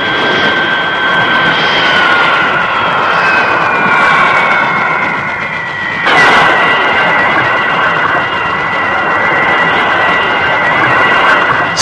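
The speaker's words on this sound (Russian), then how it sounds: "гигант Ил-62 совершает посадку" An Ilyushin Il-62 jet airliner lands at Domodedovo, its engines roaring loud and steady throughout with a whining high tone that slowly falls, then a sudden louder surge partway through as the engines go into reverse thrust.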